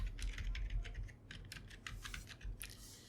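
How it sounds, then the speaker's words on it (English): A password is typed on a computer keyboard, a quick run of close, crisp key clicks in uneven bursts with short pauses between them. "and then type the password, and then again type the password"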